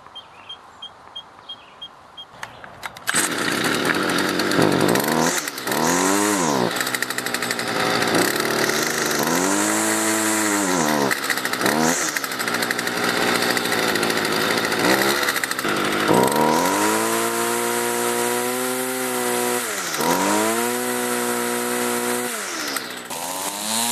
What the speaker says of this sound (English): Now that I'm done rebuilding the carburetor and it's reinstalled on the trimmer, I'm just going to try it out